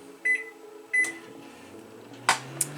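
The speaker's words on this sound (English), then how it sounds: "Some chocolate sauce, but it needs to be in the microwave" A microwave oven used to heat chocolate gives two short button beeps, then a door clunk and a faint click in a quiet kitchen.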